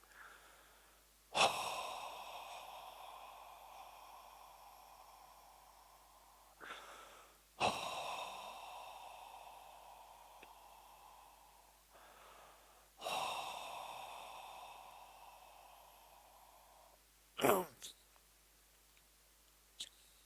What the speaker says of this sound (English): Take 3 deep breaths out with relief.